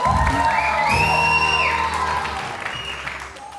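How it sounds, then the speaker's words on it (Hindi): Studio audience on a live morning TV show claps and whoops with shouted cheers, loud and lively at first, then easing off toward the end over background music. "बहुत सारी तालियां हसन जहांगीर साहब के लिए"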